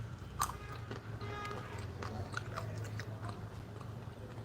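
Close, wet chewing and crunching of peanuts runs throughout, with small irregular bites over a low background hum and faint voices.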